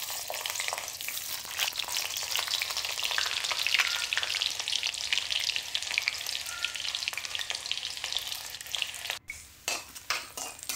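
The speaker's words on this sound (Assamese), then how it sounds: "পিয়াজখিনি ভাজি লম লাল কৰি।" Chopped onions sizzle and crackle loudly in hot oil in a kadai for an Assamese fish curry, a steady dense frying hiss with stirring scrapes, quieter and broken near the end.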